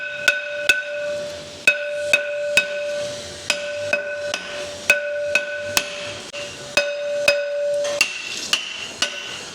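A hammer taps a brake drum loose from a Ford Ranger axle: about twenty sharp, ringing metallic strikes, close and loud, in an uneven rhythm of single blows and quick pairs, with no talking.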